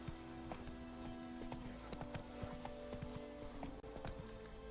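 A horse's hooves clip-clop at a steady, rhythmic pace in The Witcher 3: Wild Hunt, moderately close and fairly soft against a quiet musical background.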